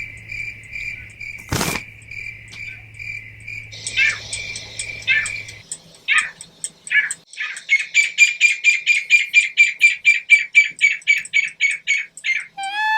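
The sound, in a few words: bird calling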